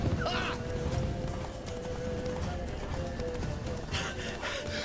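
Roach, the horse in The Witcher 3, gallops with a steady clip-clop of hooves that runs through the whole stretch, set against a continuous game soundscape with a faint sustained tone.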